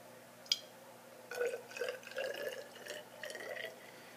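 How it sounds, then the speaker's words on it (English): Water poured into a graduated cylinder in a cell respiration lab, heard as a single drip followed by a series of soft gurgling splashes close by, with no talking. "we're going to fill up our graduated cylinder here up to 25 mils"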